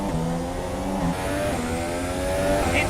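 Steady high-pitched whine of a race car engine at full power in a simulated Formula 1 qualifying lap at Spain's Catalunya circuit, pitch shifting through gear changes, loud and continuous with no talk.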